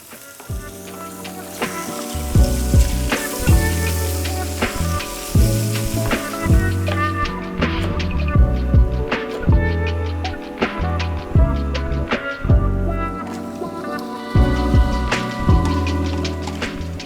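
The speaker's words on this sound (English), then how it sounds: "we're gonna take these lobster bodies and add them directly to it and get a quick caramelization" Lobster bodies sizzle and crackle steadily in hot neutral oil with vegetables, a loud, continuous frying hiss close by with scattered pops and stirring clatter throughout.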